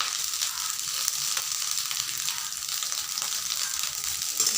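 Leftover rice frying in a pan with salt and turmeric powder, a dense continuous bright sizzle close by at fairly low level, with soft stirring underneath and no voices.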